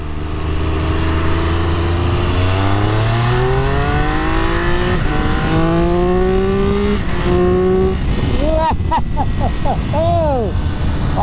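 A 2023 Triumph Speed Triple RR 1200cc motorcycle accelerating hard through the gears, its engine pitch rising repeatedly with quick shift breaks and ending in rapid revving, loud and close with wind noise.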